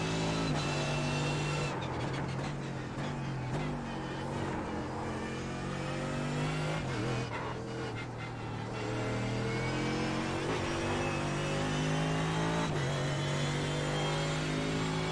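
A Mercedes GT3 race car in iRacing sweeps through the Imola chicane, its engine a loud, continuous drone that dips in pitch under braking and climbs again on the throttle, with no voices.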